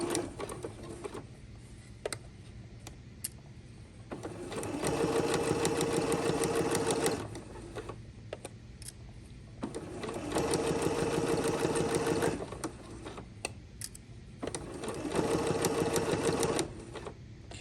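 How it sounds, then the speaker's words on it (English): A sewing machine runs straight stitching in three steady bursts of a few seconds each, separated by quieter pauses with small clicks and handling noises. "Pull my pin out and start sewing, making sure that I backstitch."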